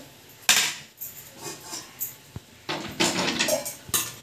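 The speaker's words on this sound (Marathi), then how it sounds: "इकडे कढई ठेवायची आणि भेंडी ओतून घ्यायची आपल्याला" Roasted okra poured into a kadhai in a home kitchen, a clattering scrape of metal followed by scattered knocks and a longer rustling tumble of pieces into the pan, fairly quiet with no talk.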